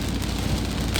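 Rain pours onto a highway at KM 15 between Bogor and Jakarta, a dense, steady hiss of falling water with low rumbling traffic underneath, uniform and loud throughout the short stretch.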